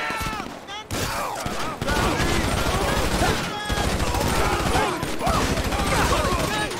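Dense gunfire in a GTA 5 gang turf war: rapid overlapping shots and automatic bursts, loud and continuous after a brief opening lull, mixed with game sounds and someone talking excitedly over the action.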